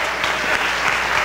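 A church congregation applauds in a dense, steady wash of clapping that fills the room for a brief stretch, with no speech over it.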